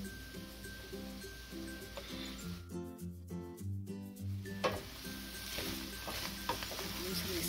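Chorizo, sausage and ham hit a pan for charro beans and crackle with a soft, low sizzle beneath background music, the frying hiss swelling toward the end.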